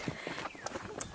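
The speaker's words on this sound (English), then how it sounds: "riding a couple of very fine horses" Horse hooves clip-clop on the bumpy ride up Taal Volcano, a few uneven knocks against rustling and soft background noise.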